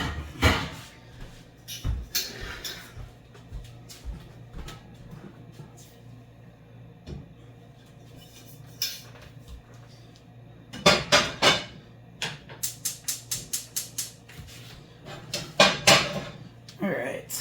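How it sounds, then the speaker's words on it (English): A pan is pulled from a kitchen cupboard: a couple of metallic clanks early on, then a quick run of bright clattering knocks of pots and cookware, close and fairly loud against a quiet room. "So I'm going to grab a pan to get butter melting in"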